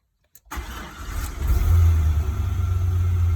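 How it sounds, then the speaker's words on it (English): A 1983 Buick Regal's engine cranks briefly and catches, then settles into a steady, loud idle close by. "So when I start this car up"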